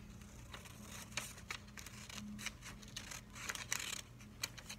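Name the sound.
cutting folded paper with scissors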